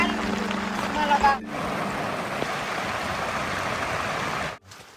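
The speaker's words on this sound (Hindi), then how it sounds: "अभी बहुत तेज बारिश हो गई है" Heavy rain pours down at a shepherds' mountain camp where goats shelter, a dense steady hiss that fills the scene for several seconds before cutting off abruptly, with a low hum and brief voice-like tones near the start.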